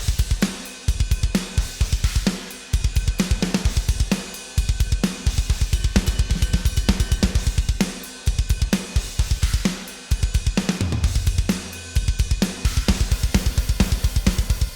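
A steady, driving metal drum groove with punchy kick and snare hits and crashing cymbals, repeating in a tight, fast rhythm throughout.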